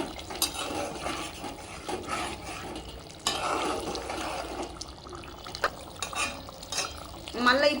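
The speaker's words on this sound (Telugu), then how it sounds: "ఇప్పుడు ఫ్రెండ్స్ దీన్ని ఒక్కసారి కలుపుదాం" Country chicken curry being stirred in a pot, with wet sloshing and scraping of a ladle against the metal, close and moderately loud over a bubbling liquid background.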